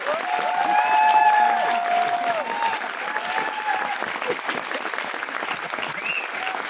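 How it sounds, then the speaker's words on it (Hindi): An audience claps in sustained applause at a talk, dense and even, strongest early then holding steady, with a few voices and a brief cheer mixed in. "मेरे लिए ताली बजाते रहो यार एक बार"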